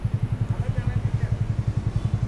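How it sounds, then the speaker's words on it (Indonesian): A Yamaha Fazzio Hybrid scooter idles close by, its engine putting out a steady, rapid low thumping pulse that stays even throughout the short stretch. "yang katanya ini motor Fazio nih"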